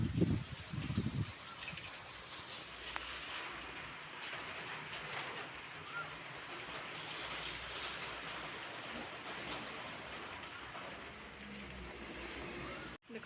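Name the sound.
heavy rain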